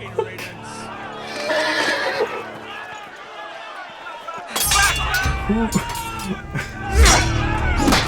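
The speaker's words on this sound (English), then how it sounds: "Who was riding that horse?" A horse whinnies loudly amid sound effects in the video game Game of Thrones, with clinks and a voice talking over parts of it.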